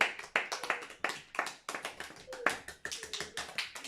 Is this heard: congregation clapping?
yes